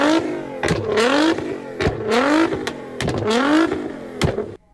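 A Ford Mustang with the 3-valve V8 engine revs repeatedly while doing donuts at a burnout competition, rising and falling in loud, rhythmic surges with tire noise, close and steady, with no talk.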